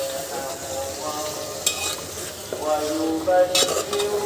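Chicken curry meat sizzles in a cooking pot as it is stirred, with steady frying crackle and occasional scrapes and clinks of a utensil against the pot.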